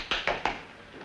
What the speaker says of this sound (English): A cramp is a thing that goes like this.